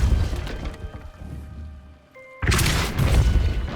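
A Depulso spell cast in the video game Hogwarts Legacy lands as a sudden heavy boom with a crashing burst, loud and close, breaking up a quieter rumbling game ambience.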